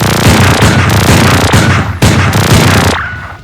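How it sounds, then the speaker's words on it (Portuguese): Shootout between rival armed groups: loud, close bursts of rapid gunfire with sharp repeated reports and booming impacts, continuing for a few seconds before fading out. "presenciam um tiroteio entre os protetores de Jersey e os membros da União América"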